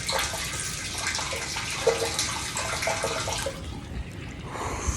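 Water from a homestead well pours and splashes steadily at close range, a broad continuous gush with small gurgles running through it, easing off slightly near the end.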